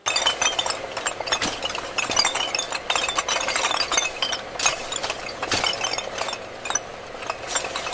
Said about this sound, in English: An automated jar unscrambler places rows of empty,